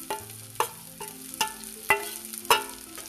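Stuffed bitter gourd roasting in a pan for curry, a quiet sizzle broken by five regular spatula knocks and scrapes as the pieces are turned, no voices.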